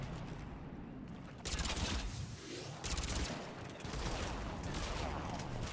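Assault rifle fire in Mass Effect 3 comes as rapid, sustained automatic bursts, loud and close, with a brief quieter gap before repeated strings of shots resume; no talk over the shooting.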